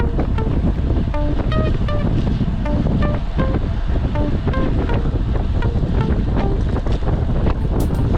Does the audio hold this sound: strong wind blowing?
yes